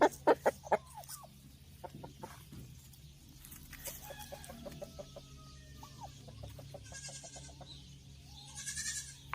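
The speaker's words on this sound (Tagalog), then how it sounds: "Yan po ang mga manok natin dito sa farm" Chickens of various breeds on a farm cluck and squawk in scattered bursts, with a few sharp loud calls at the start and goat-like bleats mixed in, moderately close amid quiet outdoor background.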